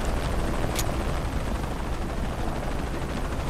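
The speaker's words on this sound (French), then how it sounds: "J'ai jamais aimé les hélicos." A helicopter in the Shadow of the Tomb Raider video game makes a loud, steady rotor roar that fills the whole moment, with one brief sharp crack partway through.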